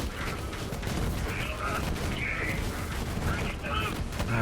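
Shotgun fire in Borderlands 3, an 18-shot weapon used alongside grenades, heard as dense, continuous gameplay action with overlapping blasts and effects that never let up, while a voice talks over it.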